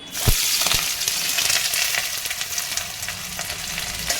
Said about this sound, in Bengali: এবার আমরা কাঁচা পেঁয়াজগুলোকে কড়াই দিয়ে দেব